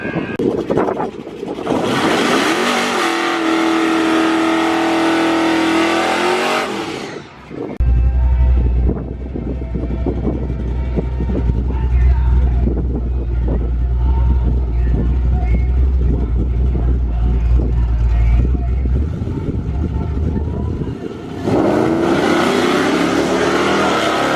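Lowered Ram pickup truck launching and accelerating hard down a drag strip, a loud sustained engine roar with heavy low rumble and wind buffeting across the microphone, bracketed by brief bursts of louder noise at the start and end.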